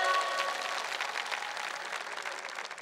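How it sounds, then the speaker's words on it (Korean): Steady applause from the audience after a student's performance at an organic-farming song contest in Goesan, even clapping that fades slightly over its few seconds. "큰 박수 부탁드리겠습니다"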